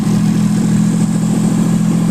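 Small aircraft engine idling a little fast at about 1800 rpm with no propeller fitted, a steady, loud, even drone with a fine rapid pulse throughout.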